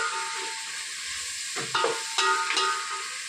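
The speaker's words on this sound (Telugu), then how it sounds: "ఇది బాగా వేయించుకోవాలి ఫ్రెండ్స్" Vegetables, including carrot, fry in a pan for sambar with a steady close sizzle, and several sharp stirring scrapes stand out near the end.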